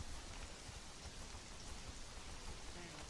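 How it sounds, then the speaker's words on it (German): Video game rainfall makes a constant broadband wash of drops, full and unbroken from start to finish, with nobody speaking over it. "Und es regnet."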